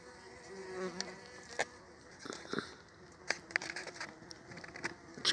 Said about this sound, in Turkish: İçeriden bombus çıkmaya çalışıyor.